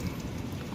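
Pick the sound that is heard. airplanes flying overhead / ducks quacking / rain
rain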